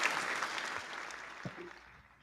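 A crowd claps in a steady wash of applause that fades toward the end, with a few stray thumps near the middle and no clear voices.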